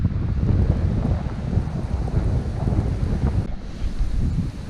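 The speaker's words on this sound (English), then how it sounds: "hopefully the wind will die down" Steady wind gusting across a lakeside campsite in Algonquin Park during an autumn canoe trip, a constant close rumble buffeting the microphone alongside a faint wash of water, with no talking.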